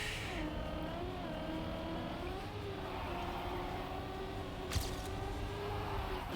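Steady engine roar of a car in the video game TrackMania 2020, sustained loud revving with shifting pitch as the car drifts through a turn, a brief burst of tire or impact noise near the end, no talking.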